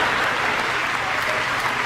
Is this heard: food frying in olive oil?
no